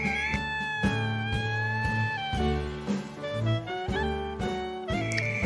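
A cat meows repeatedly in short, insistent calls, close by, with musical tones playing steadily underneath.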